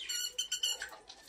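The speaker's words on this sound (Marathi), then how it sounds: "पोपट आवाज करताना विट्टू विट्टू." A parrot indoors gives a quick run of three or four short, bright, chirping squawks close by, fairly faint, with no talking.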